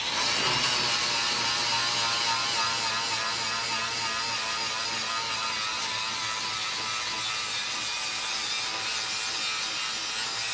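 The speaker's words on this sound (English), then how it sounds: "using the paint stripper on the angle grinder." An angle grinder fitted with a paint stripper disc works a car's front bumper, a continuous loud, raspy scraping whir held steady throughout.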